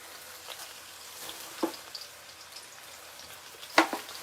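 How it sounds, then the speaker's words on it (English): Quiet, steady sizzling and crackling of food frying in hot oil, with a couple of sharper pops and a light stirring clink. "Just make sure the oil is hot so it sizzles nicely."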